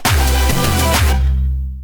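Electronic tom drums in Reason 10 play a descending pattern of deep, booming hits, one nudged slightly late to form a flam, loud and close, ending in a fading decay.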